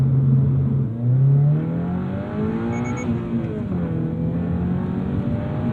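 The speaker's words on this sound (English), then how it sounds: "The exhaust also helping it sound better, but even without an exhaust, it already sounds so much better than the first gen." A 2023 Toyota GR86 with an aftermarket exhaust revs up through the gears, its engine note rising in pitch, dipping briefly at a shift, then climbing again, loud and close with no talking.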